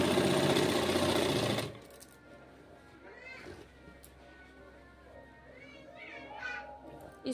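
Domestic sewing machine stitching a suit, a loud rapid whirring run for under two seconds that stops abruptly, followed by quiet room noise and faint voices.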